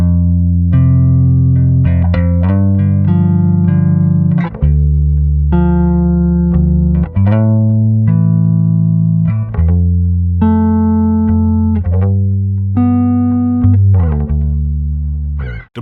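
Clean bass tone from a Darkglass Microtubes 500 Combo 112 bass amp with no effects engaged, loud and steady, with sustained low notes and chords changing every second or two, played alone.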